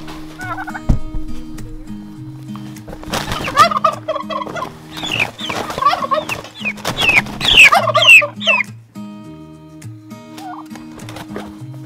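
Turkeys in an emu yard gobble in repeated loud bursts over several seconds, with clucking fowl and steady background noise around them.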